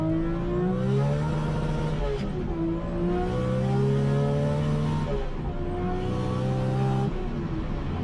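A 1239 bhp Toyota Supra accelerates hard through the gears on a high-speed run, its loud engine note repeatedly rising then dropping at each of several quick gear changes, a sustained roar with no talking.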